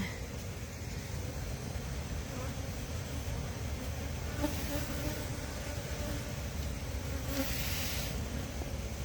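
Honey bees buzz around an open hive in a steady, close, droning hum that stays constant throughout, with a few brief louder rustles and no clear speech.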